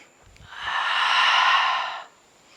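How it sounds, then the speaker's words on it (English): A single long, breathy exhale close up during a standing hip stretch, rising smoothly, holding for about a second and a half and then trailing off into quiet. "Inhale and exhale."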